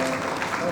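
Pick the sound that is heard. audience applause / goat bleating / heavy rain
audience applause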